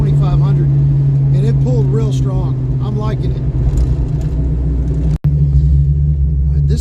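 A Mustang fitted with a QFT Slayer 750 carburetor pulls in fourth gear from low revs, its deep, steady engine rumble loud and close, with a voice talking over the drone and a brief cutout near the end.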